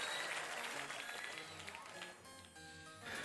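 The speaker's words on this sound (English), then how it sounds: "When the Territory Lord clapped his hands in celebration, it spread throughout the entire cathedral." Dense, continuous applause spreading through a cathedral in the Umineko When They Cry visual novel, a steady wash of many hands clapping that dips briefly near the end before swelling again.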